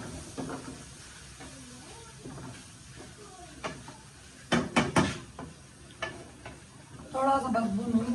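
Onions frying and being stirred in a pan in a home kitchen, a steady sizzle and hiss with clustered scraping strokes, under faint background voices.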